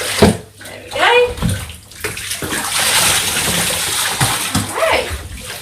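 Water is poured and splashed over Monty, a dog, during an indoor bath, with sloshing and splattering bursts between brief pauses and a voice heard faintly now and then.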